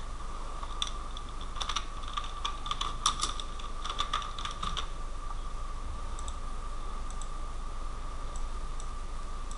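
Quick bursts of clicky keystrokes on a computer keyboard, close and steady, as a cell entry is typed into an Excel or Google Sheets spreadsheet, with no voice present.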